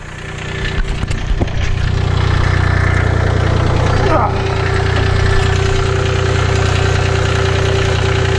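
A subcompact tractor engine runs steadily at close range while plowing snow with a homemade plow, a loud continuous idle-like drone with a brief rising whine midway and some speech.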